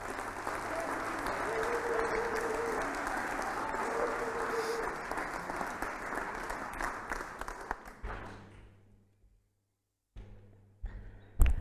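Audience applause at the HEC Alumni general assembly, a full hall clapping steadily for about eight seconds with faint murmured voices, then fading to near silence before brief microphone handling noises.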